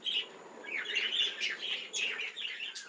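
Budgerigars chirp continuously in an aviary, a dense, bright chatter of overlapping tweets and warbles at close range with no voices.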